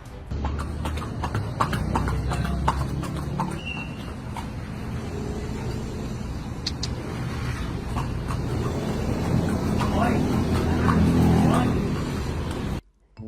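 A horse's hooves clip-clop steadily on pavement at a fast food restaurant drive-thru, with cars and engine noise nearby and people talking over the hoofbeats throughout.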